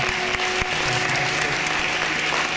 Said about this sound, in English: Can we give those four people a round of applause?